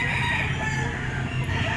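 A gray, yellow-legged gamefowl stag crows once in a drawn-out call lasting nearly two seconds, close and clear against a little background noise.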